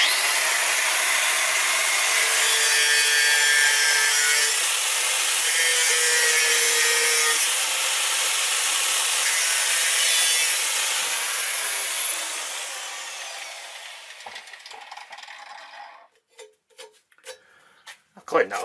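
A power tool cuts through wood for a floating shelf with a steady, loud, harsh whine that runs for about twelve seconds, then tapers off into scattered knocks and clatter.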